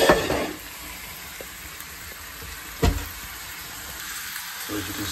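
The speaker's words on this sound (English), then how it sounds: "browning this off now" Food browns in a hot pan with a steady, close sizzle and hiss, broken by a few soft clatters of stirring and a brief thump near the middle.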